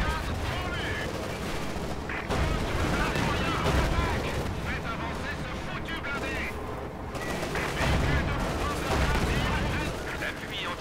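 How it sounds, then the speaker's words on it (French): Battle sounds from the Company of Heroes 2 video game with an anti-tank gun, dense rattling gunfire, booming artillery-like blasts and explosions layered continuously, while game voice lines speak over the combat. "Ah, ils ont un nouveau canon anti-char."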